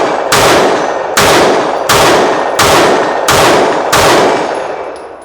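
Steyr M9A2 pistol fitted with a red dot sight firing six loud, sharp shots at a steady pace, each crack followed by a short ringing decay, with no talking.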